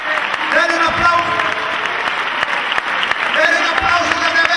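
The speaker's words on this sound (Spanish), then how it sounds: "Dele un aplauso de veras" A church congregation applauds at a Christian sermon, a sustained mass of clapping that swells and dips, with voices in the crowd heard throughout.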